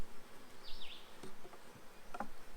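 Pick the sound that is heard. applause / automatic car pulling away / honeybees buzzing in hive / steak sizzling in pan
honeybees buzzing in hive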